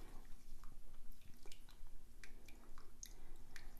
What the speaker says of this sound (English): I'm stirring away here by smooshing the flexible bottom of the spatula against the bottom of our pan